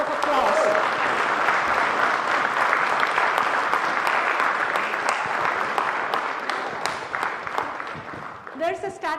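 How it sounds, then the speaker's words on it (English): Audience at a keynote talk on branding and outreach applauds women entrepreneurs standing in the room, sustained full-room clapping that tapers off near the end as a voice returns. "Can we give them a round of applause?"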